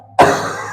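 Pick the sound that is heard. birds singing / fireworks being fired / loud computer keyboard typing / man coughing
man coughing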